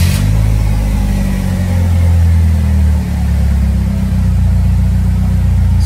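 Polaris Slingshot engine started inside a garage, idling steadily with a loud, low, even rumble that holds throughout, with a brief dip midway and no talking.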